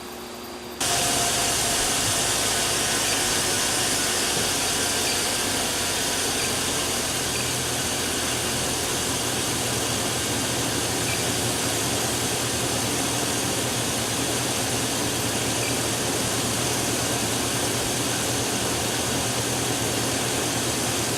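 A 2000 Chevrolet Suburban engine idles steadily during an alternator output test, giving a constant loud hum and whine with a hissy wash that starts abruptly after a brief quiet moment and holds unchanged to the end.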